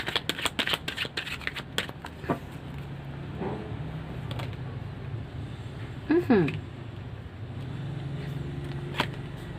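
Tarot cards shuffled and drawn during a reading, with a quick run of riffling card snaps followed by scattered single flicks and slides, fairly close, amid quiet room noise with a voice in the background.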